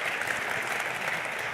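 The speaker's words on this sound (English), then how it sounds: "can we give them a round of applause for putting this all together?" At a press conference, an audience gives a brief burst of steady, dense clapping to thank the organizing team, even in level and fairly close.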